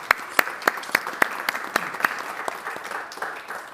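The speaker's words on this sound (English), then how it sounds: "Yeah, applause." An audience claps after a talk on the war in Ukraine, with sharp, evenly spaced claps from a small group that thin out and fade toward the end.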